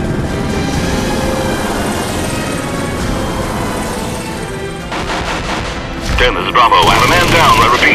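Gunfire and battlefield noise ring out during an attack on a village, a dense, loud wash of shots and rumbling that swells sharply near the end.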